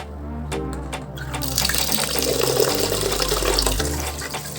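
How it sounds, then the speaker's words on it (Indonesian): Tap water runs into a container as rice is swished and rinsed, the flow splashing louder midway with a low hum underneath. "kita cuci dengan bersih di air mengalir"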